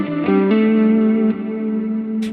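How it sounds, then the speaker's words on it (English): Sustained electric guitar notes ringing with repeating delay echoes and a wash of reverb, swelling and blending into a dense, distorted tail. "we can hear how we can mix in reverb onto our delay feedback"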